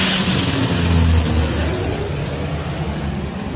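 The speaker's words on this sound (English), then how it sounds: "This is what a firefighting plane looks like in action." A firefighting plane flies low beside a highway, its engines a loud, continuous roar that fills the whole stretch and eases slightly toward the end.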